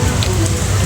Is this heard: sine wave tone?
no